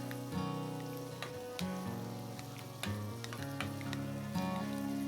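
Drained canned whole kernel corn is stirred in a hot skillet, giving a continuous sizzle with scattered scraping taps from the utensil, close and steady throughout.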